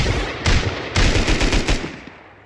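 Rapid machine-gun fire from a first-person shooter video game rattles out in several loud, close bursts, each starting sharply and fading, with brief gaps between them and no talk.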